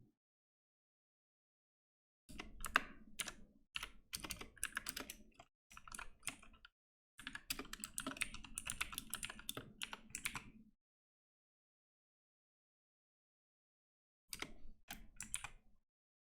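Computer keyboard typing comes in several separate bursts of quick, close key clicks, with long silent pauses between them and a final short burst near the end; no one speaks.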